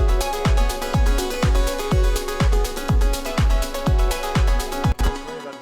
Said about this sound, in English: if I play everything from the kick, the drums, and the main synth, it sounds like this.